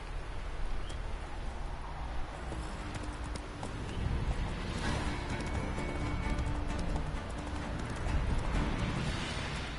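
Hoofbeats of Roach, Geralt's horse in the video game The Witcher 3: Wild Hunt, clopping in a steady galloping rhythm throughout, fairly close over a dense, noisy game backdrop with no talk.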